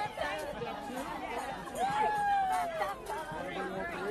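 Lively crowd chatter and cheering at a live TV show broadcast from New Orleans, a dense hubbub of many voices with a few raised calls rising over the babble.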